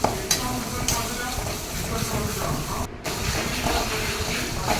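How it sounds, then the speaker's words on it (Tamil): Tomato, onion and ginger garlic paste sautéing in a pan for a chicken gravy, a steady close sizzle with stirring scrapes and a brief gap partway through. "இஞ்சி பூண்டு பேஸ்ட்டு சேர்த்து நல்லா வதக்கிக்கணும்"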